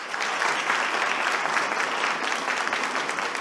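A crowd at an informal ceremony conferring a Campinas honorary citizenship title applauds warmly, a dense, even wash of clapping held steady at moderate loudness throughout.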